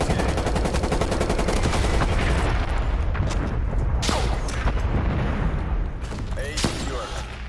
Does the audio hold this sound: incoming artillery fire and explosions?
yes